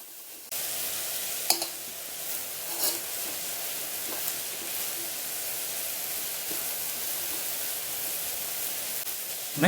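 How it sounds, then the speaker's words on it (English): Bean sprouts stir-fry in a pan with a steady, close sizzle and hiss, broken by occasional faint scrapes and taps of the spatula. The sound is even and unbroken, with no talking. "Here we keep on stir frying until all the bean sprouts wilt."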